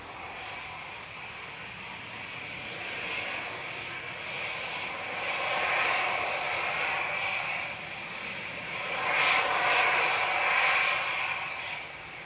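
Gulf Air Boeing 787-9 Dreamliner at Manchester Airport, a distant steady jet engine rumble with a hissing whine that swells twice, moderately faint and without talk.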